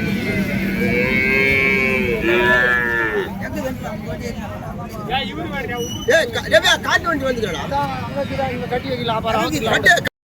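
Cattle moo loudly and repeatedly at a busy Vaniyambadi cow market where draught bullocks are traded, long drawn-out calls close by over a constant crowd babble of many voices.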